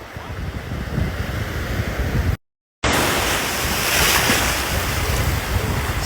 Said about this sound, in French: Ce moment de détente ASMR avec les vagues